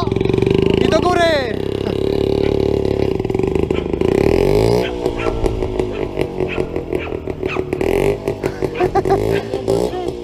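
A WSK 125 motorcycle engine idles and revs unevenly, growling close by, with people talking over it and the engine note rising and falling.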